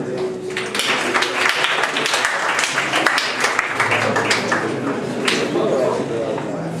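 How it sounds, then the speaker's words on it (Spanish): Strong applause from a theatre audience after a Cervantes-themed dramatic reading, a dense burst of clapping with distinct sharp claps standing out, while a voice talks over part of it. "Un fuerte aplauso."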